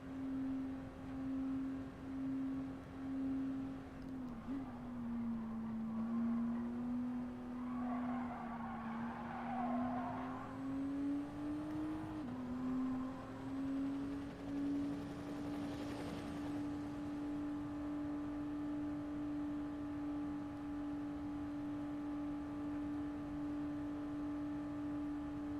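Race car at full speed on the Mulsanne straight at Le Mans, a steady loud engine drone holding one pitch for the whole stretch with brief dips and a short rising shift partway, no voices.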